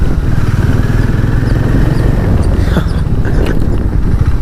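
A Hero Maverick 440 TorqX motorcycle engine thrums steadily and loudly on a test ride, holding a constant pulsing drone with wind noise over it.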